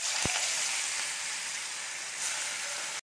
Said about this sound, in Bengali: এই যে মাছগুলো ভাজা হচ্ছে, দুরকম মাছ রান্না হবে, পাবদা মাছ আজকে রান্না হবে।